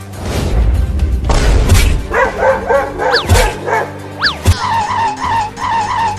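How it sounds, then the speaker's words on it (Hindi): A dog barks repeatedly while chasing outdoors, loud and near, with rapid yips and barks over a noisy background. "लगता है कुत्ता चढ़ जाएगा पेड़ पर।"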